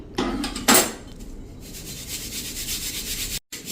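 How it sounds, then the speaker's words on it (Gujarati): Mukhwas is shaken through a wheat flour sieve, a steady dry rubbing and rattling that runs throughout, with louder bursts near the start. "આ રીતે આપણે થોડો થોડો નાખી અને ચાળી લેશું."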